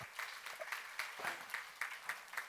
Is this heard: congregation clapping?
yes